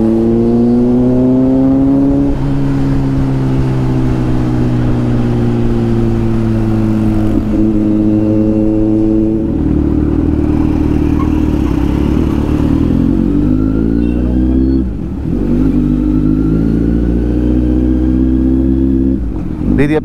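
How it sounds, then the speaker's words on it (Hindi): A Kawasaki Ninja motorcycle rides past on a road with a loud, close engine note that rises and falls through several gear changes. Another superbike's engine drones steadily underneath throughout. "ये देखो गई निंजा।"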